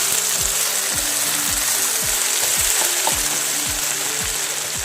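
Potatoes fry in an uncovered pan with a loud, dense sizzle, while a rhythmic low machine-like thumping repeats underneath throughout, close and steady, with no speech.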